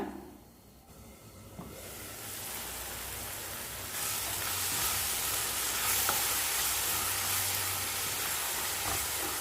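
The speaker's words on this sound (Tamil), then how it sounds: "தக்காளி எல்லாம் நல்லா வதங்கிருச்சு. எண்ணெய்லாம் நல்லா பிரிஞ்சு வந்துருச்சு." Tomatoes sautéing in oil for a paneer gravy, a soft sizzle that swells into a steady, louder frying hiss with occasional stirring, no voices.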